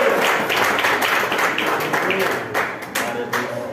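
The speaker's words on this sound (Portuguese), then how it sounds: "Vamos receber ele com palmas para o Senhor." A church congregation claps together to welcome a brother to the pulpit during a doctrine service, steady mid-level applause filling the room throughout, with a voice faintly mixed in.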